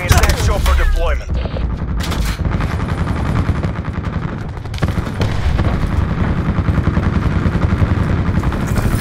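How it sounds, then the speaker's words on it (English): Video game gunfight in Black Ops 4 with a helicopter overhead: loud, continuous machine-gun fire and bursts of shots over a droning rotor, with radio voices speaking beneath the din. "TACCOM, Nomad authorizing a TAC chopper deployment"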